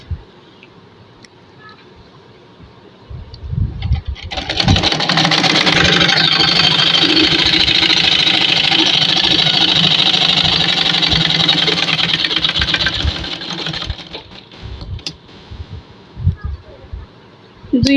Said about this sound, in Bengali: এখন সেম 2 পায়েরই বর্ডার সেলাই করে নিচ্ছি